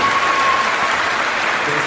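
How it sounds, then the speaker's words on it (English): A gathering on Pine Ridge Indian Reservation breaks into a short, steady burst of crowd applause, dense clapping filling the whole moment. "Let's give him a round of applause."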